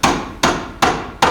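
Four evenly spaced, loud metallic hammer strikes on the steering drag link of a 1984-2001 Jeep, each sharp impact ringing briefly before the next, with no talking.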